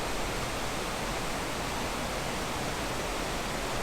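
Waterfall at Apostle Islands National Lakeshore, a steady, even rush of falling water filling the scene without pause.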